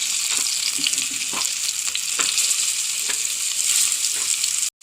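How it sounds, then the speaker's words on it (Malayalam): Chilli-coated mackerel fish frying in oil in a pan, giving a steady close hiss and sizzle with faint stirring taps, continuous until an abrupt cut near the end, no talk. "നമുക്ക് അയില മീൻ മിളക് പറ്റി വെച്ചിട്ടുണ്ട് കുറച്ച് അപ്പോൾ അത് വറക്കാം"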